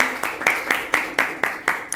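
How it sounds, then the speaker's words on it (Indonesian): A classroom group claps together in a steady, rhythmic beat for a presenting student group, about four sharp unison claps per second, close and alone. "Tepuk tangan dulu, kelompoknya Anggi."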